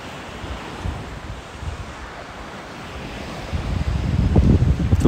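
Waves wash onto the beach at Platja de Muro on Mallorca's Alcúdia bay, a steady broad roar of surf with wind buffeting the microphone, swelling louder toward the end, no voices.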